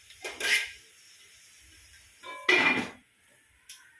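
A lid is set on a cooking pot of chicken, giving two sharp metallic clanks a couple of seconds apart, with a faint tap after, in a quiet kitchen.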